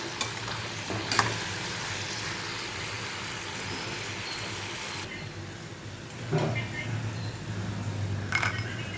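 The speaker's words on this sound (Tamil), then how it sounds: "எண்ணெயில் பொரிஞ்சிட்ருக்கு" Rice flour rings fry in hot oil with a steady, dense sizzle throughout, broken by a few clinks and stirring bumps, close and moderately loud.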